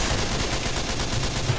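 Rapid, continuous burst of a snow cannon firing in a Roblox ragdoll game, a dense rattling stream of shots at steady loudness with no pauses.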